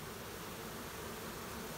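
A steady, dense buzzing of a honeybee swarm in a box fills the clip without pause, a continuous hum at moderate level.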